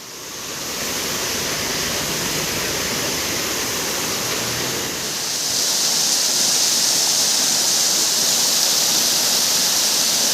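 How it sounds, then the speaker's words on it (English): A small waterfall on a mountain ghat road pours in a steady, loud hiss of rushing water that grows brighter and fuller partway through, with no voices. "a cute little waterfall"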